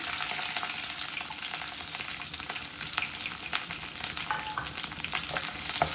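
Chopped onion sautéing in a pan with curry leaves for a South Indian breakfast dish, a steady close sizzle and crackle of frying with no talk.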